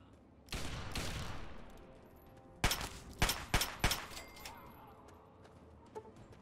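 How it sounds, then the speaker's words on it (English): Raider gunfire in the video game Fallout 3: a long sustained burst of shooting, then a pause and a few sharp, loud separate shots in quick succession, with faint later echoes. "there's a raider shooting at me"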